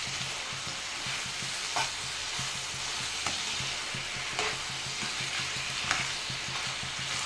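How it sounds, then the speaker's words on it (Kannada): Tomato gojju mixture frying in a pan gives a constant soft sizzle and hiss, with a few faint stirring taps scattered through it and no voices. "ಅದು ಸ್ವಲ್ಪ ಫ್ರೈ ಆಗಲಿ"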